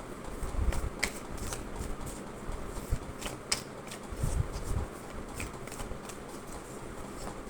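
Tarot cards shuffled by hand for a destiny reading, giving a steady soft riffling patter with brief louder flicks and taps, close and alone without talk.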